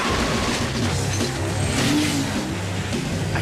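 A car engine revving and pulling away in a Jak X: Combat Racing cutscene, a loud steady roar with a rising whine, over a noisy mix of game sound.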